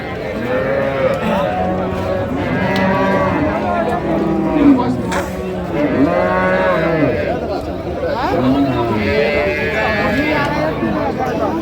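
Dairy cows and calves moo repeatedly in long, drawn-out calls at a crowded livestock market, Raniganj Haat in Dinajpur, with people talking throughout.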